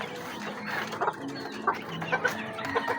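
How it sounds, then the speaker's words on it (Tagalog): Chickens cluck in a backyard poultry pen on a small farm, several short soft clucks and chirps scattered close by at a quiet level, with no talking over them. "Manok dito."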